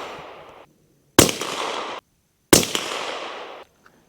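Two sharp, loud reports from a Savage B22 .22 rifle firing CCI Mini Mag rounds at an outdoor range, each followed by a long decaying echo.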